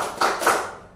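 Hands clap in a classroom clapping game, a few sharp claps in quick succession, close and distinct, with no talk over them.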